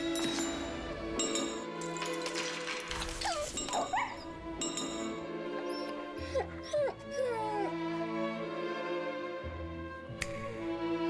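A dog whimpers and yips in short, high whines over a busy backdrop of clinks and background music, fairly close and moderately loud.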